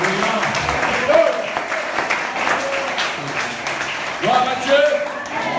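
A church congregation applauds and cheers the Lord during a French-language worship service, scattered clapping with bursts swelling near the end, mixed under a preacher's voice and crowd voices.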